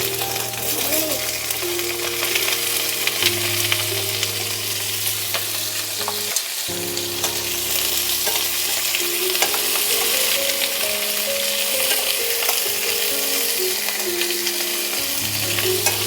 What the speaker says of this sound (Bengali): এঁচড়গুলো হালকা ভাজবো।